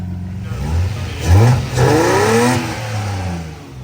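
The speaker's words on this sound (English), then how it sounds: "I revved it." A Toyota Supra engine revs up close, climbing in two sharp pulls from idle and settling back to a steady run, loud and alone.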